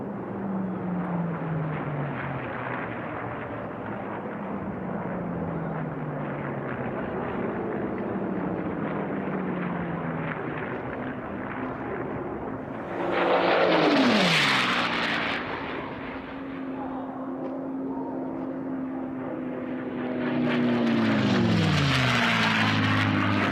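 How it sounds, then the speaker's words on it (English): P-51 Mustang racing planes roar past at the Reno Air Races during an unlimited-class heat, a loud continuous engine drone with two passes swelling and dropping in pitch as they fly by. "the airplane that helped win the air war in World War II"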